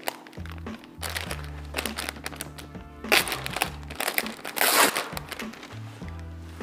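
Backing paper being peeled from Speedy Mask protective masking film for covering windows, heard as a series of close, loud crackling rips and crinkles with short pauses between pulls.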